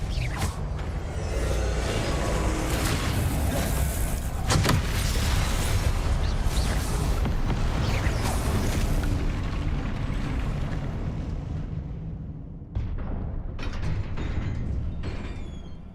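Booming, crackling blasts of the Confringo spell in the Hogwarts Legacy video game, loud and sustained, with rumbling bursts and sharp impacts fading near the end.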